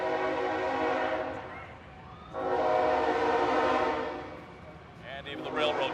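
A railroad train sounds its horn in long blasts as it passes during a small-town Prairie Pioneer Days parade, the loud horn swelling and fading twice with rumbling rail noise underneath.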